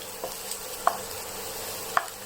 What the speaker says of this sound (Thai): เจียวกระเทียมนะคะ